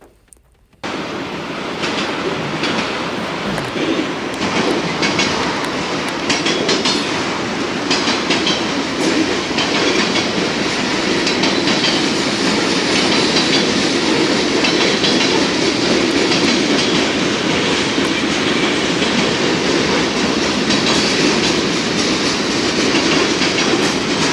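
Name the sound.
train passing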